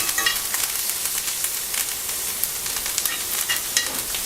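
Lamb searing in a hot pan with thyme, garlic and a nub of butter gives a steady, close crackling sizzle with bursts of spitting fat and no voices.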